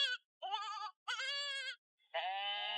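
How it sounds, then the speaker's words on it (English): A screaming goat sound effect: three bleating cries broken by short gaps, then a shrill, sustained scream, loud and close with nothing else behind it. "In case you needed an emergency goat."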